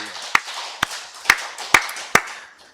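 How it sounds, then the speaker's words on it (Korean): A church congregation at Sunday worship claps in unison: five sharp, evenly spaced claps ring out close and clear against a quiet background. "다시 살아계신 하나님께 박수 영광 돌리겠습니다"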